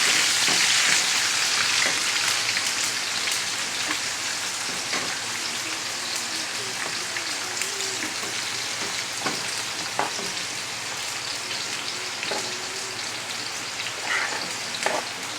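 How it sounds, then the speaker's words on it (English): Vegetables sizzle and fry steadily in a pot for a dumplings, lentils and saltfish dish, a constant close crackling hiss with occasional stirring clinks. "And add in the vegetables. Let these vegetables cook up."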